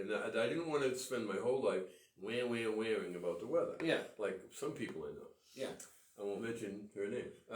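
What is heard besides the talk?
No everyday noise stands out behind the speech.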